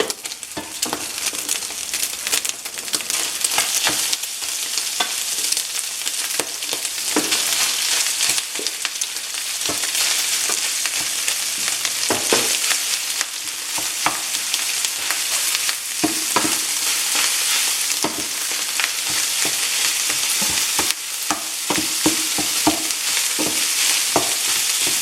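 Cooked rice is stir-fried in a hot pan for home-style fried rice: a loud, continuous sizzle runs throughout, broken by frequent sharp scrapes and clatters of the spatula tossing the grains, with no talking.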